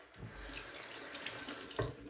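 Water runs from a tap onto a shaving brush, a soft steady splashing stream with small shifts as the brush moves under it, quiet and close.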